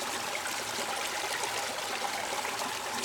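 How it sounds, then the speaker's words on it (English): The north branch of Mill Creek, on a mountain property, flows with a steady, close, broadband rushing and burbling that stays even throughout. "This is the north branch of Mill Creek."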